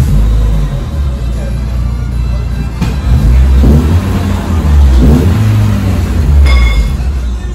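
Renault Clio Sport engine fitted with a new Magnaflow exhaust, revving loudly and continuously with a deep low rumble that swells and eases over several seconds, close to the microphone.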